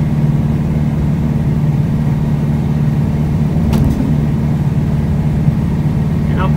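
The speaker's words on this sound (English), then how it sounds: "It really goes down the road pretty well for a lowered car." A lowered 1964 Volkswagen Notchback cruises slowly down the road, its air-cooled engine giving a loud, steady low hum heard from inside the car.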